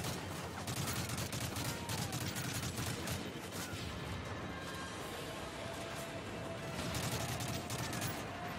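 G36 rifle fire in the Modern Warfare 3 campaign: dense, continuous bursts of automatic gunfire layered with distant shots and battle noise, fairly loud and unbroken throughout.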